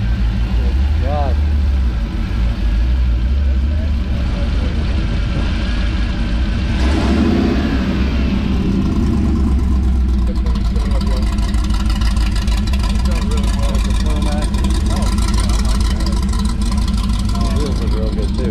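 A Hellcat-swapped Dodge Ramcharger at a cars and coffee meet idles with a deep loud rumble and revs up partway through, while people talk nearby.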